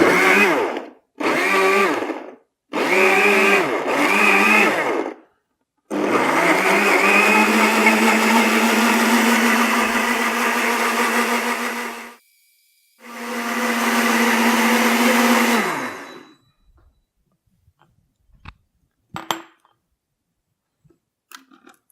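A Vidia BL-001 vacuum blender roars in loud bursts: four short pulses, then a long continuous run, a pause, and another sustained burst before stopping, followed by faint clinks.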